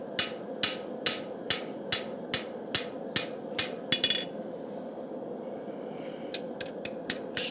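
Forged knife blade with its spine down on an anvil being hammered straight: about ten sharp, ringing metallic blows in an even rhythm, then a short pause and a quicker burst of lighter taps, close and clear.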